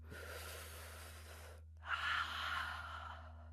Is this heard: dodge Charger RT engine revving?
no